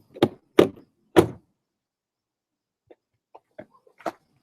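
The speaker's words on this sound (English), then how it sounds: "I'm going to try and close the door." A Ford EcoBoost car door shuts with three solid, close thuds in quick succession, leaving it not fully latched; a few faint clicks follow after a pause.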